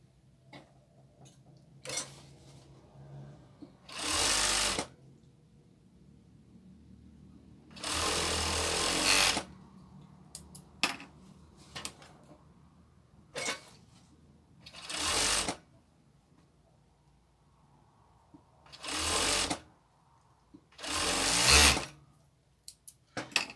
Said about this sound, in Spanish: vamos a coser la V